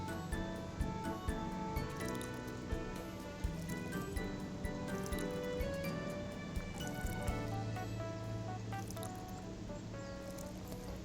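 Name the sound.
watering plants in the video game Snacko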